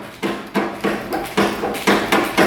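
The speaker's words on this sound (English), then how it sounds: "The good old punch and the hammer." A hammer strikes a metal punch during an ATV repair, about seven sharp, evenly spaced close blows with no talking.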